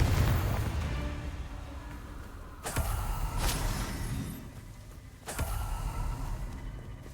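Booming blasts from the Confringo fire spell in the wizarding action game Hogwarts Legacy, two or three sharp explosive bursts spaced a few seconds apart over a rumbling background.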